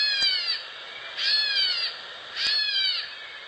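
A recorded call of a migratory bird from the Great Dismal Swamp, its cry likened to a distant crying baby, sounds as three drawn-out, wavering, high-pitched wails, each about half a second long, spaced evenly apart and clear over quiet background.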